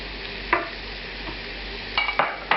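Burger patty hitting a very hot griddle, with a steady low sizzle broken by a few sharp scraping clinks of a spatula.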